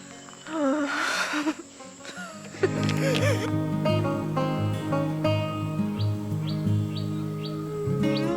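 Several birds chirp and sing in a lively outdoor chorus, with repeated short tweets and whistled phrases close and clear over a steady background, and a brief voice early on.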